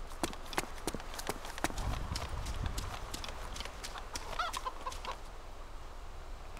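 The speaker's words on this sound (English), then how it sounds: "That is a chicken." Chicken clucking in the video game DayZ, with a run of sharp, clicky bursts and brief cackles over steady low background rumble, fairly close and with no one talking.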